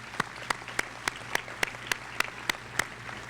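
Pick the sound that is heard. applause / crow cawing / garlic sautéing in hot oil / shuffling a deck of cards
applause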